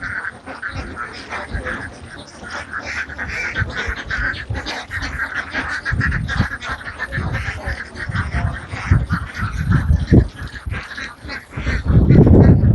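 Many ducks quack in a noisy, overlapping chorus at an open-air duck farm beside a large wetland where flocks are herded out to graze, the calls steady and fairly loud throughout.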